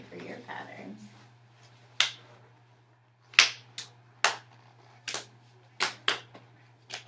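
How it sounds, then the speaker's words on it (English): Hands slap and clap in a sharp, sparse pattern of single hits, crisp and close in a quiet room, following brief talk at the start, with a steady low hum underneath. "hands on the ground, Boom. hands on my knees, clap"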